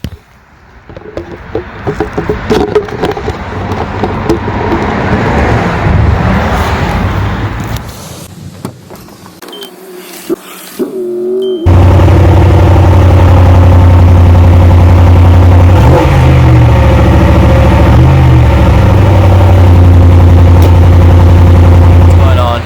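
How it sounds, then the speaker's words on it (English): After a quieter stretch of muffled handling noise, a Ram 1500 pickup with a Totalflow exhaust cold-starts abruptly and settles into a loud, deep, steady idle that fills the rest of the clip. "One last cold start for a while."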